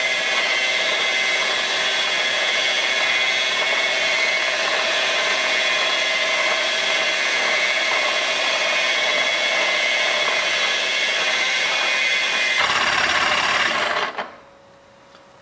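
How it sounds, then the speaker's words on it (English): Milling machine spindle cutting a Ford 3.0 flywheel for weight reduction, a loud steady high-pitched grinding whir that continues unbroken for many seconds before cutting off abruptly near the end, with no talking. "Well, I've increased the speed of my spindle."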